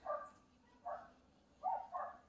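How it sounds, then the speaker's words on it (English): Several dogs bark excitedly in a backyard vegetable garden, three or four sharp, mid-distance barks spaced irregularly across a couple of seconds, with no talk over them. "The dogs are going crazy."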